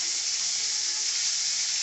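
Rupchanda fish fries in hot oil in a wok, giving a loud, steady sizzling hiss that runs without pause through the short stretch.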